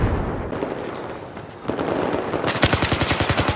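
Rapid automatic bursts from a CBJ-MS submachine gun in a first-person shooter, starting with scattered shots and swelling into a loud, steady rattling volley near the end.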